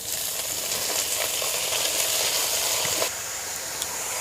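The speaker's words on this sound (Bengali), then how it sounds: "শাকটা আমি দিয়ে দিয়েছি। এবার ভালো করে নেড়ে দেব, মিশিয়ে দেব সব আদার সাথে।" Radish greens hiss and sizzle loudly in a pan with frying ginger, a dense steady frying noise with faint stirring scrapes, then the sound brightens and sharpens near the end.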